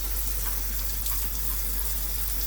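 Steady water spraying onto a cream retriever's dense coat during a full groom rinse, a continuous even hiss with no pauses.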